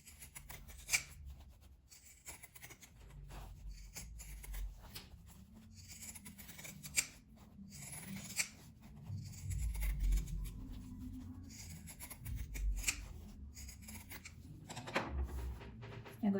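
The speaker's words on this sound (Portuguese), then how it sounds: "Eu vou recortar com essa tesoura de picote" Pinking shears snip through fabric while trimming a patchwork coaster, giving intermittent close crunchy cuts and rubbing of cloth at an uneven pace, quiet overall.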